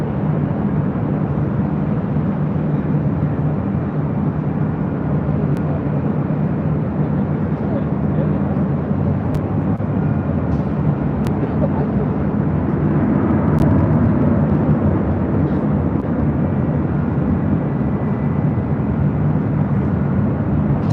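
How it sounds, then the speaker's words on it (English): A Southwest Airlines Boeing 737-700 landing at LAX, a steady loud low jet roar that fills the whole stretch with no clear rise or fall. "This is Southwest Airlines 2061 coming in from Tucson, Arizona on a"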